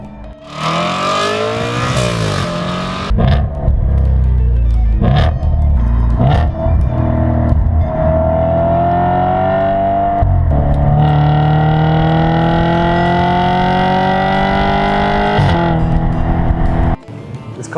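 A 2013 Audi RS5's engine revving hard and pulling up through the gears, loud and close, its pitch rising steadily with a brief lift between surges before cutting off at the end.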